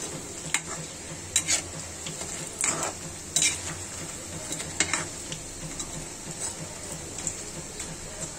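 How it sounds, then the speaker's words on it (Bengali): Bengali potato chops fry in a pan with a steady sizzle, while a utensil stirs and scrapes with intermittent clinks and knocks close by. "একদম সহজে আমি এটা ভেজে নিলাম।"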